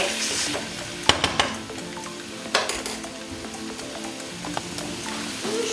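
Squid sautéing in oil with minced garlic, steady close sizzle broken by several sharp spatula scrapes and clacks against the pan as the mix is stirred.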